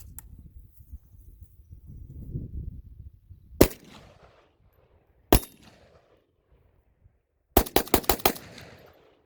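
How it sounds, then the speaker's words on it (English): Zastava ZPAP M70 AK-47 rifle firing outdoors: a single sharp shot, a second lone shot, then a rapid string of five or six shots, each cracking loudly over low rumbling background. "that ammo is cycling really nicely through this gun"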